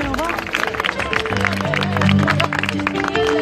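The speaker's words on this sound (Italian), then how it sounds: "Dovete fare un grande applauso innanzitutto per tutta la mia band che vedete alle mie spalle" A live outdoor concert crowd claps and cheers for the band in a dense wash of applause, with music and a voice over a PA running beneath it.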